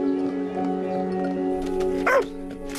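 A dog gives a short yip and whimper close by, over a steady droning background hum.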